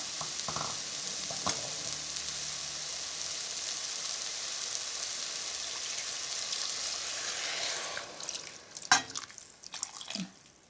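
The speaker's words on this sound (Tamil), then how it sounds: "இப்போ நம்ம வந்து சிறுபருப்பு வேகிற அளவுக்கு நம்ம தண்ணி ஊற்றிக்கலாம்" Water poured into a pan of moong dal and red amaranth greens, a steady broad hiss and trickle running throughout, with a few louder splashes and clinks near the end.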